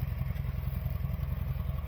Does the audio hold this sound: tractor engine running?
yes